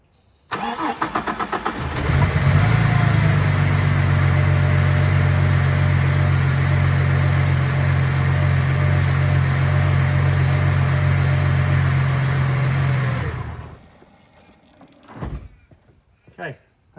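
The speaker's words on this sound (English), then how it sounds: "I'm going to start the car up, see how true it runs on everything." Ford AU Falcon six-cylinder engine cranking and catching after a harmonic balancer repair, then settling into a steady close idle for about ten seconds before shutting off, followed by faint clinks and quiet movement.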